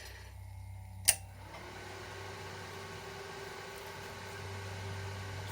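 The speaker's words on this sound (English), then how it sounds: "Turning the induction heat on." A Chinese 1800 watt induction heater on a 36 volt DC supply running idle, giving off a steady faint electrical hum and hiss after a single sharp click as it switches on, close and without talk.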